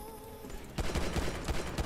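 Rapid gunfire breaks out in a Roblox gun game ad, a quick burst of repeated shots following a brief stretch of steady game sound, close and loud.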